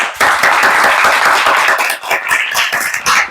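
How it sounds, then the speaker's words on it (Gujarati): Children clap loudly and continuously in a classroom of new students, a dense, steady burst of hand claps that holds strong for a few seconds with slight dips. "તાળી દે જોરદાર"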